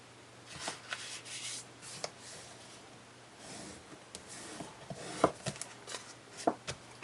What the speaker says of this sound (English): I need to fold it in half and crease it.